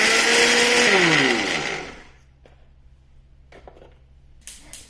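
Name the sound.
mixie jar grinding peeled peanuts into powder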